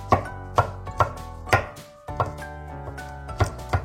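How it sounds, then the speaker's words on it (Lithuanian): Garlic cloves cut with a knife into coarse pieces, a series of sharp close knocks in an uneven rhythm with a brief pause midway, then several more quicker cuts, quiet with no voices. "Pjaustom česnaką."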